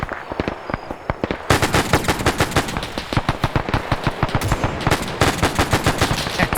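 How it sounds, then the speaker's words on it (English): An anti-aircraft gun in a WW2 video game fires long rapid bursts, loud close rhythmic reports in quick succession with a brief pause before a heavier, denser stretch of fire. "It's the AA gun now firing at him."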